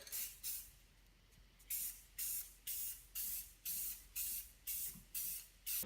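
Aerosol spray paint being applied as a second coat of glitter paint on a Drift Armor bash bar for an S13, heard as a steady series of about nine short close hissing bursts with brief pauses between them.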